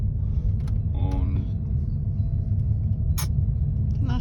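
VW T6 camper van pulling away, its engine rumbling steadily and close throughout, with brief higher hisses and clicks above it and occasional voices in the cabin.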